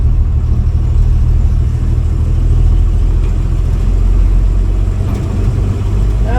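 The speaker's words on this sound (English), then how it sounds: "It struggles a bit in third gear at 20 miles an hour" A car engine labouring in third gear at about 20 miles an hour, a loud, steady low rumble and drone heard from inside the vehicle, holding strained and even without rising revs for several seconds.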